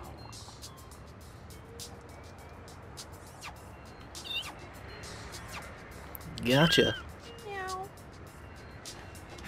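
A cat in the No More Heroes video game gives one clear, loud meow, then a fainter one, over a rumbling background noise, with someone speaking briefly.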